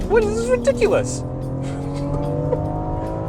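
A BMW X4M Competition lapping a race track, its engine drone steady and close with brief tire squeal, while a voice speaks excitedly over it early on.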